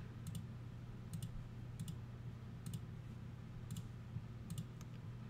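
Quiet computer mouse clicks while editing in GIMP, coming in close double-click pairs roughly every second over a steady low hum, with no speech.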